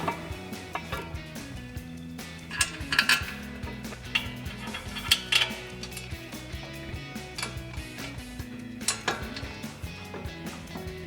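Brake mounting bracket going back onto a 2005–2010 Mustang using the original hardware, with light metallic clinks, taps and tool contacts scattered over the clip, close and fairly quiet with no speech.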